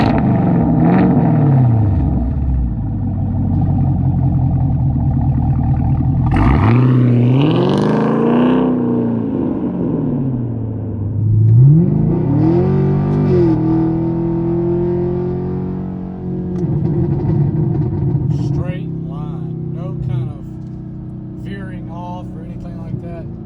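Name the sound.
Chevrolet Camaro SS accelerating hard from a standing start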